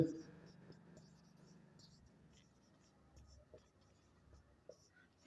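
A pen scratches across paper while physics notes are written, faint soft strokes in short irregular bursts, close and quiet, with a little low voice in the background.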